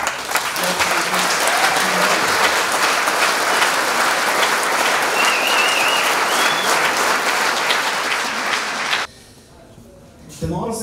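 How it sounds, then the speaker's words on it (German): Loud, sustained applause from a large crowd fills the room for about nine seconds, then stops abruptly, leaving quiet room noise. "möchte das mit einem tobenden Applaus hier übergeben"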